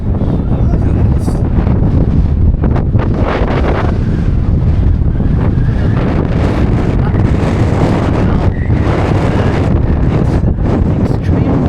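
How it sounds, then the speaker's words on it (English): Strong wind along the Blackpool seafront promenade, roaring and buffeting the microphone continuously with heavy low rumbling gusts and no let-up. "It's extremely windy."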